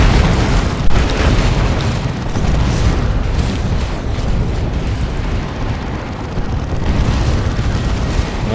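A dense, continuous rumble of artillery barrage explosions fills a Dawn of War 2: Retribution battle, loud and heavy, with overlapping booms and one sharper blast near the start.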